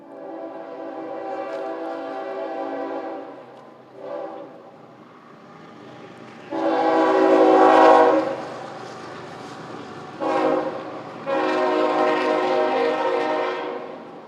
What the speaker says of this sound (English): I can't curse the trains because we wouldn't be here without them.